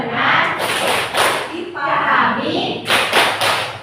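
A classroom group claps out a rhythmic focus routine during an icebreaker, with several sharp bursts of claps standing out under and between talking voices.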